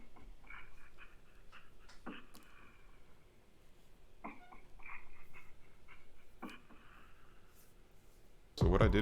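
A percussion loop from a multi-kit plays quietly as a sparse pattern of soft clicks, taps and short pitched hits repeating about every two seconds, ending with a sudden louder burst.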